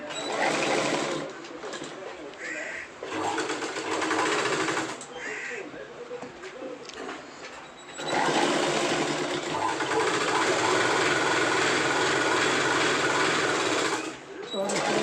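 Sewing machine stitching piping onto trousers, running in bursts with short pauses, then a long steady run near the end; a person talks over parts of it.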